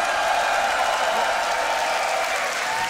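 A crowd at the finals of a beatbox loopstation battle applauds and cheers in a dense, steady roar of clapping that stays loud and constant throughout.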